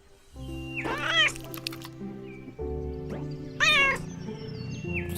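A cat meows close by, two clear drawn-out cries with a few softer squeaks between, over a faint steady background hum and no talking.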